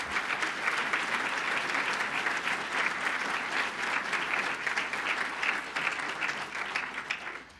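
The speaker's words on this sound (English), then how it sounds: "I'd like a round of applause for the county team" An audience applauds the county planning team, a dense sustained clapping from a sizable crowd that holds steady for several seconds and tapers off at the end, with no talking over it.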